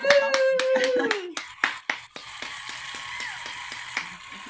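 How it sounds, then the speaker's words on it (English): A small audience claps after a songwriter performance, a burst of separate sharp claps that soon thins into lighter scattered clapping, close and moderately loud, over a brief sustained tone at the start. "that sounded like applause"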